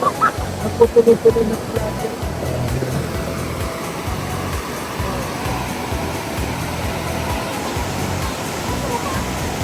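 A strong river current rushes loudly and steadily outdoors, a dense continuous roar of churning water with a few brief louder splashes near the start.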